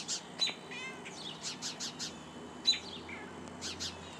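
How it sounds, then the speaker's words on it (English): Several sharp, high chirps and squawky bird calls in quick bursts, fairly close, over a quiet background with no talking. "you can hear the bird's displeasure in having him up here."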